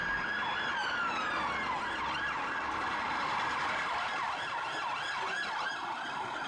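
Police car siren wailing as the car drives down a road, a rising and falling electronic tone repeating steadily at a moderate distance under faint traffic rumble.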